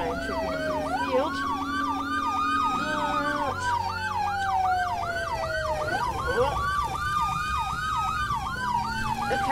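A fire engine siren in the video game Brick Rigs wails in a fast, repeating yelp over a low engine rumble, loud and close throughout.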